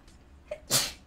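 A single close, sudden sneeze with a brief intake of breath just before it, standing alone over faint background hiss.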